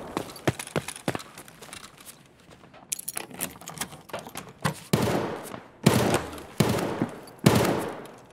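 Gunfire in the video game Escape from Tarkov: scattered sharp shots early on, then loud, dense volleys of rapid bursts near the end, with no talk over them.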